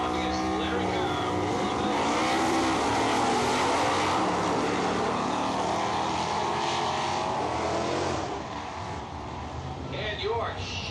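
A 1964 Ford Falcon sedan delivery with a 5-speed drag races, a loud continuous engine roar mixed with crowd and track noise, with voices talking over it throughout.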